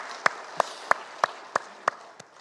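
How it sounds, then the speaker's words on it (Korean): Church congregation clapping together in worship, seven evenly spaced sharp claps in a steady rhythm, moderately loud in a reverberant hall, with no talking. "하나님께 우리 박수로 영광을 돌리겠습니다"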